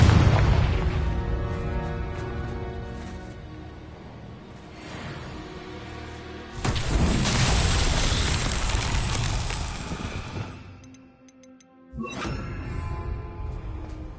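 A Confringo fire spell is cast in Hogwarts Legacy, heard as a loud whooshing blast with a crackling burst, then fading debris, alongside other spell and combat effects within a dense game soundscape.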